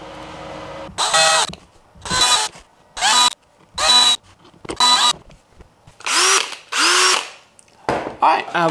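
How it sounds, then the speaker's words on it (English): A repaired cordless power drill runs in eight separate bursts of high whine, each about half a second to a second long, with brief silent gaps and pitch shifts as the trigger is squeezed and released. "the next thing we're fixing is this drill"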